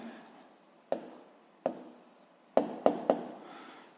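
Hand writing a physics answer on paper, heard as five distinct close pen strokes, two spaced apart and then three quicker taps, over quiet room tone.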